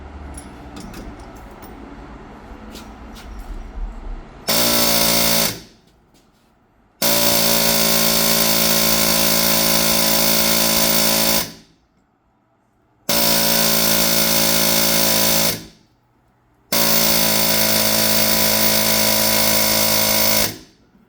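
Impact gun removing bolts from a Ford Explorer's rear wheel, four loud sustained buzzing rattles of several seconds each separated by short pauses, close, after a quieter stretch of workshop handling.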